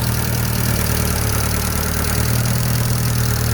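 Atomic 4 marine inboard engine with a rebuilt reduction drive, idling at close range with a steady low throbbing rumble and no voices.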